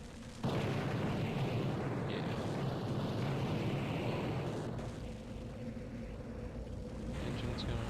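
A train's overheated engine exploding in the 1997 game Blood: a sudden heavy blast that becomes a long, dense roaring rumble, loud and sustained, with a brief spoken word near the end.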